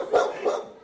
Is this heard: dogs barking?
yes